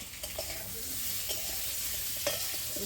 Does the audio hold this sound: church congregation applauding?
no